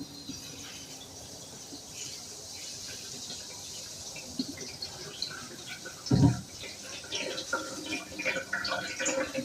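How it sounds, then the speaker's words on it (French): Water running steadily through a colander as sprouted seeds are rinsed, with soft trickling, a few louder splashes and light handling noises. "Ensuite, je vais regarder la température de l'eau et je vais venir les rincer."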